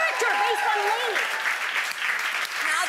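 A studio audience applauds with strong, continuous clapping, and voices talk and whoop over it throughout.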